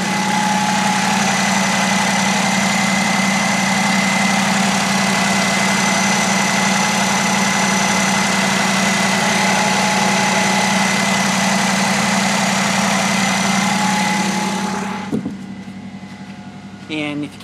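Diesel-powered DC battery charger for an off-grid setup idling steadily near 1100 RPM, a loud constant drone with a strong hum that drops off abruptly near the end.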